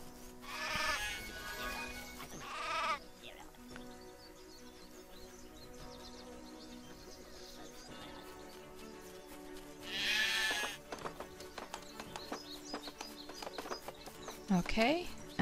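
Cartoonish sheep bleat in the video game Craft the World, two prominent bleats a few seconds apart plus a fainter one near the end, over soft game music and clicking interface sounds.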